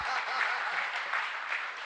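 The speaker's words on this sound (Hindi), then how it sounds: "अरे तालियां तो बजाओ इसीलिए।" A gathering at a Jain monk's Shanka Samadhan question-and-answer discourse breaks into brief, steady clapping from many hands, moderately loud and filling the short moment without speech.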